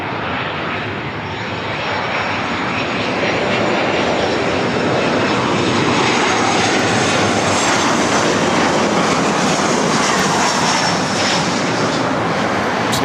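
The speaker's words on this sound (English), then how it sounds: "Emirates A380, number 3 for arrival." An Emirates Airbus A380 airliner arrives at LAX, its engines producing a loud, continuous roar that holds steady and grows slightly fuller over several seconds, with no talk.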